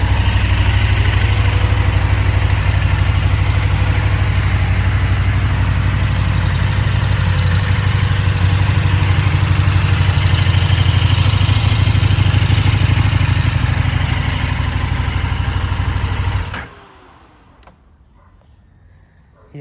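A 2020 KTM Super Duke R motorcycle engine idles loud and close with a steady, throbbing low drone, then cuts off abruptly near the end, leaving near silence.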